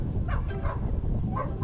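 A dog barks and yips several times at close range, short sharp bursts over a steady background hum, with no talking.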